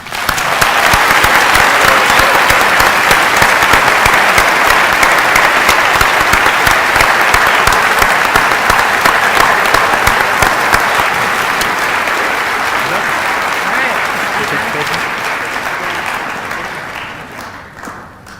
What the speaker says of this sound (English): Parents, let's give an applause.